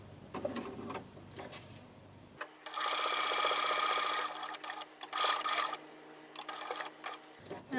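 A sewing machine stitches a card holder and needle case in a steady, rapid mechanical rattle for about five seconds, with quieter handling sounds and a brief pause before and after.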